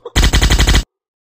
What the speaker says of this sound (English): Long press this button to shoot the enemies.